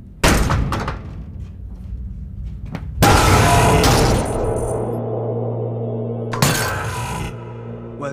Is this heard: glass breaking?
yes